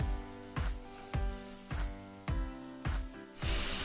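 Capsicum, carrot and potato pieces sizzle in hot oil in a pan for veg masala Maggi noodles. A rhythmic hiss swells roughly every half second as the vegetables are stirred and tossed, close and fairly loud, with no talking.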